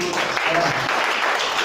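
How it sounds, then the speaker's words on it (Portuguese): A church congregation breaks into applause, a dense, steady wash of clapping over the full moment, with a voice briefly audible underneath at the start. "Quem crê pode aplaudir."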